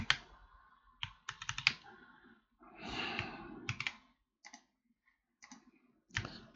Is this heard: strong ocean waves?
no